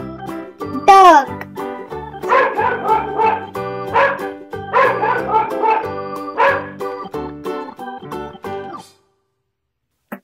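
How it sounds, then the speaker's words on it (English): Repeated dog barks and yips from a toy animal set come in bursts, loud and near, with tonal, electronic-sounding harmonics, then stop into silence near the end. "Dog."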